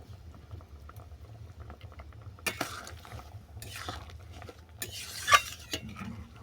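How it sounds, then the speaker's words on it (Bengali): Sour fish curry with lemon, sating fish, fried fish pieces, mustard paste and a winter vegetable boils steadily in a pot, giving a close, continuous low bubbling with a few sharp utensil scrapes and stirring clatters. No one speaks. "টকটাকে আরও 2 মিনিট আমি ফুটতে দিলাম।"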